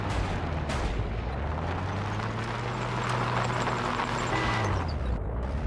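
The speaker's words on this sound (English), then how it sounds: "We have a heavy machine gun now." Heavy machine gun laying down suppressing fire in a Battlefield game set in Yugoslavia, a dense continuous roar of gunfire with engine rumble underneath, loud and steady throughout.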